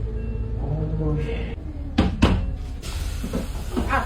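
A door pushed shut on a bus, a couple of sharp knocking thuds heard close by amid the chatter of people talking.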